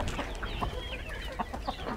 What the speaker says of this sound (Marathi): त्या पद्धतीने हे आपल्या कोंबड्या आहेत